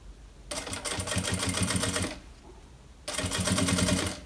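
A home sewing machine set to stitch length 4 stitches suede fabric for a beginner's bag, its rapid mechanical chatter running in two close, steady bursts separated by a short pause.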